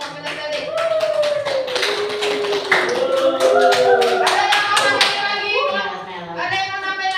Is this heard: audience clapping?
yes